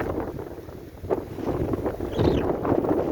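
Gusty wind at Burtnieki lake in Latvia buffets the microphone in low rumbling surges, with a broadband rush that swells and eases across the few seconds, and no voices.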